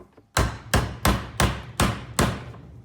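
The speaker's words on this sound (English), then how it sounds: "And give it a tap with the hammer." A hammer taps the top bar of a wooden beehive frame: six sharp, close knocks in a steady rhythm, each with a short ringing decay, no talking.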